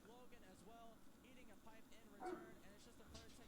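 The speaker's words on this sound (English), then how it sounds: "Oh, my dogs are barking in the garden." Dogs barking out in a garden, a few distant yips and barks sounding faintly behind a person talking close to a microphone during a gaming session.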